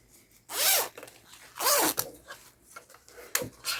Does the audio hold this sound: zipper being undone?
yes